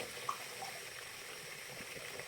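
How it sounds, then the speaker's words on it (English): Tap water running steadily into a bathroom sink while the face is rinsed, a faint, even trickle and splash that holds throughout without a break. "I just take a little bit of water and then I re-rub my face again with some water."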